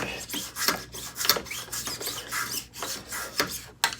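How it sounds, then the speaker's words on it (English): A miniature Veritas shooting plane taking very fine shavings off a small piece of teak, a series of close, quick rasping strokes with short pauses between them. "I'm just taking some shavings off the side here"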